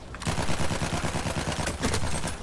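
Dense automatic gunfire from Battlefield 1, rapid repeating shots crowding the whole stretch, loud and close with a brief louder burst near the end, no talking.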